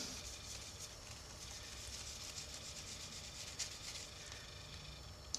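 Steady, soft rubbing of fine-grit sandpaper over a scale model's surface, a continuous fine hiss with faint rhythmic strokes and no talking.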